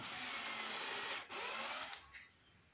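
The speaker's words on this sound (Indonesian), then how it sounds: "Setelah dilem, lalu kita bor ya buat penaruhan sekrup ataupun bautnya guys." A power drill boring screw holes into a wall shelf, a loud steady whine with one brief dip before winding down and stopping near the end.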